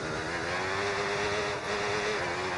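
A video-game F1 race car engine howls in a steady, loud, high-pitched drone with tightly layered harmonics, holding near full throttle throughout with no voices.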